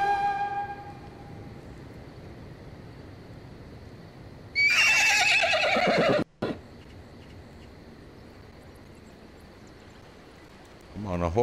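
A horse neighs loudly in the video game Mount & Blade 2 Bannerlord, a bright whinny of about a second and a half rising out of quiet game ambience, followed by a softer snort near the end.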